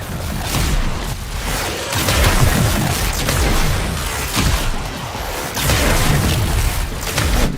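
Explosions in the video game Warframe boom repeatedly, loud and close, with rolling blasts and crackling debris running one into the next throughout.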